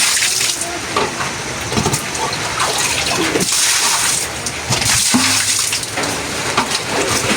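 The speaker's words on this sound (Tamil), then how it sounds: "நான் அப்படியே தண்ணி ஊற்றினா ஃபுல்லாக நுரைச்சி கொண்டே இருக்கு" Water is poured over a surface at a rain-affected house to wash away foam, giving a continuous gushing, splashing hiss with a few louder surges over several seconds.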